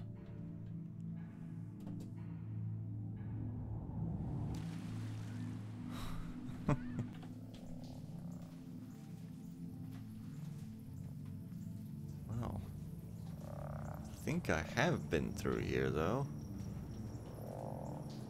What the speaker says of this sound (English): With all the weird frog sounds.